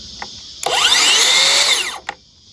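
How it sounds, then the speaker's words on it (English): A new track saw rips through timber to even off table ends, a loud steady whine of just over a second that starts and stops abruptly, with a brief mechanical clunk just after. "First use of the new track saw too."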